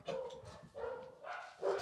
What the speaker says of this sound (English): hear my dogs go off here